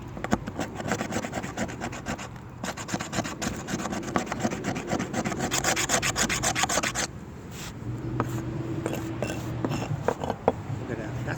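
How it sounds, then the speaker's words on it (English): A knife shaving curls off a fatwood stump outdoors, long rasping strokes repeated in a steady scraping rhythm, close and fairly loud, with a low engine-like hum underneath in the later part. "Just want to get some more shavings off that."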